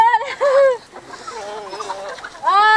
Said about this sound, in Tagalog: Pakain ka manok.